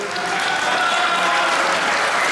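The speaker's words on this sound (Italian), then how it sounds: "Un grande applauso" Audience applause at an underwater photography awards evening, Foto Sub Adriatico 2023, a steady, dense wash of many hands clapping with no talk over it.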